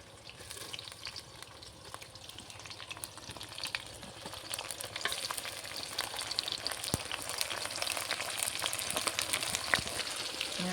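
Dried chili, chopped onion and shrimp fry in a pan with a steady, close sizzle that grows slightly louder and denser, with light crackles and no talking.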